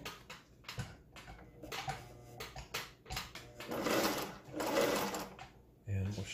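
A Singer 401A sewing machine runs in steady rhythmic stitching, close and clear with the whir rising and falling in bursts while a person talks over it.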